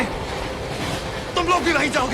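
A train runs on rails with a continuous rumbling rattle, heard briefly beneath a voice talking over it.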